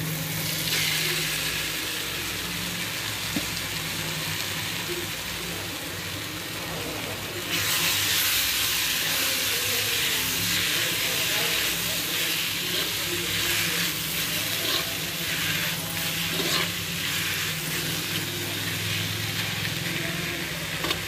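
Cabbage mixed into tomatoes sizzles steadily in a hot pan, a broad continuous hiss that grows louder partway through, with faint stirring underneath.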